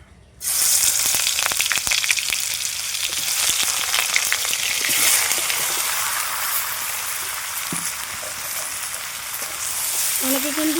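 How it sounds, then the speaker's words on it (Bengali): Green jackfruit and potato, already boiled, hit hot oil with a sudden loud sizzle that settles into a steady, dense crackling hiss, with scattered stirring scrapes nearby and a brief voice near the end. "ভালোভাবে এঁচোর আলুটা কিন্তু খুব সুন্দর করে ভেজে নেবো"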